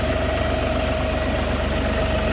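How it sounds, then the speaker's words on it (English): An LS XG3140 compact tractor's engine idles close by, a loud, steady, even diesel rumble with a constant pitch and no talking over it. "See if we can get this thing to pick itself up at an idle."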